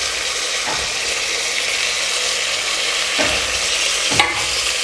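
Mint and coriander leaves with green chillies are stirred into a sizzling biryani masala in a pot for coconut milk peas biryani. A constant loud frying hiss runs under three or four scraping spoon strokes.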